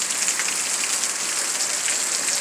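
Heavy rain comes down hard, making a loud, steady hiss of drops drumming on surfaces, with no voices present.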